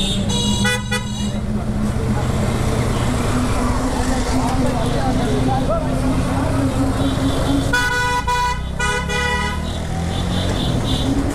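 An auto rickshaw's engine drones steadily through dense road traffic, with bursts of repeated horn toots near the start and again later, and faint voices mixed into the street noise.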